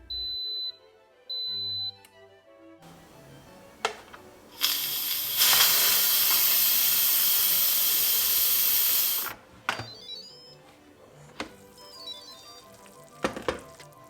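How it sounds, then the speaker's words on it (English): An Instant Pot pressure cooker beeps twice, then vents steam in a loud, steady hiss for several seconds before it cuts off, followed by scattered clicks and knocks. "We'll wait for 5 minutes before releasing the steam."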